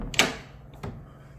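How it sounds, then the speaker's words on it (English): An all-wooden hotel room door in Lapu-Lapu, Cebu, is pushed open, giving a sharp knock-like clack followed by a softer second thud, close by in a quiet room. "you just push in the door."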